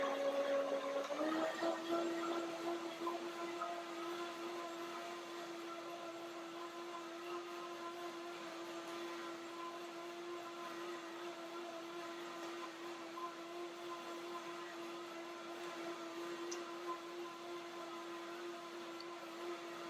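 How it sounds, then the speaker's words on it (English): A blender whirs continuously while blending almond banana ice cream, a steady mechanical motor hum with a bright whine that settles after a brief startup surge, heard alone and close. "So one more blender dance."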